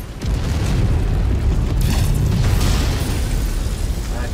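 Explosions from a bombardment in MechWarrior 5 roll together into a loud, sustained roar of deep booms and rumbling blasts, with no pauses between them.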